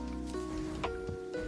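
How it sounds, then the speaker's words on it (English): Rain falls in Terraria with the Calamity mod, a soft, quiet hiss of patter running steadily beneath faint tonal game music. "Let's see if this rain will end."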